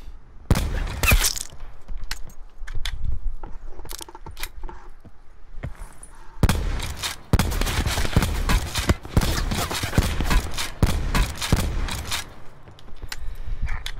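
Gunfire in Call of Duty 4 Blackout, sharp close shots in irregular bursts, with a rapid volley in the second half and quieter gaps between, without clear speech.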